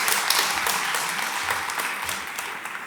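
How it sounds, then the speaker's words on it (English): A round of applause from the audience at an awards celebration, steady broadband clapping throughout at a moderate, even level with no speech over it. "if I could just get a round of applause, please, to invite him on stage."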